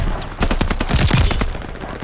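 Rapid, loud bursts of automatic fire from an AS-44 rifle in the Call of Duty video game on the Shipment map, a dense string of close shots with no pauses.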